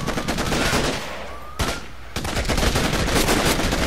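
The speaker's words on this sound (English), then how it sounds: "They're shooting at me! I'm under fire!" Enemy gunfire in the Xbox 360 shooter Raven Squad: rapid, loud automatic bursts close by, briefly pausing before the rattling volley resumes and continues to the end.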